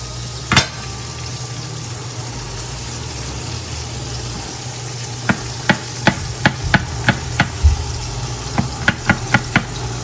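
Butter melting in olive oil in a pan for a T-bone steak gives a steady low sizzle and hiss, broken by a run of sharp, close taps and knocks near the end.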